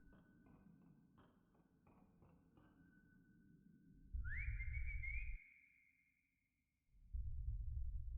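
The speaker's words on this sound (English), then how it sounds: "Whistling to numb the pain." Whistling by a player character in the horror video game Lost in Vivo: a sustained melodic tune with a held note that rises partway through, over low rumbling game ambience and soft taps.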